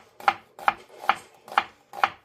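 Knife chopping onion on a cutting board for a stir-fried Korean zucchini side dish: five evenly spaced, crisp cuts, close and clear with short pauses between them, no talking.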